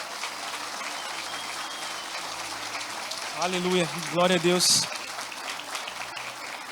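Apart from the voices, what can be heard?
church congregation applauding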